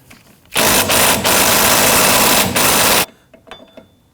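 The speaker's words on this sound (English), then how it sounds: "Use our ratchet here." A ratchet on an extension loosens the rear wheel hub bolts of a 2017-2020 Hyundai Elantra, a loud, close, continuous whirring burst lasting about two and a half seconds before cutting off to near quiet.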